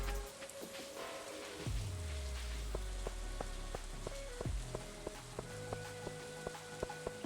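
Steady patter of rain in Stardew Valley with scattered drips, joined by synthetic game tones, bleeps and descending swoops over a low background hum.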